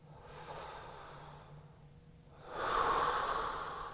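A slow, deep breath during a yoga hip stretch, drawn in and then released as a louder, airy exhale. It sounds close and soft, with no talking.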